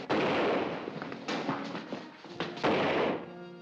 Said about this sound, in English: Those were shots.